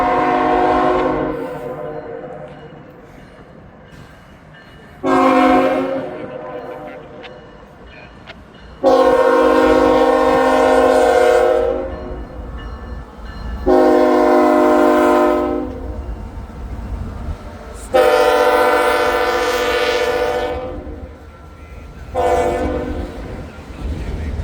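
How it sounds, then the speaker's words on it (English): A freight train rolls past a gated crossing in Hamilton on a cold, windy morning, its horn blasting loud in several long separate calls over a continuous rumble of wheels and wagons, with no talk. "We got a train, it's coming right now."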